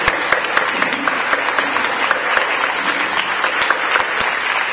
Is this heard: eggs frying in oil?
no